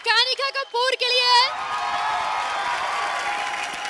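Studio audience on an Indian TV comedy show breaking into applause and cheering for a singer, a host's voice briefly ahead of it, then steady loud clapping that fills the room.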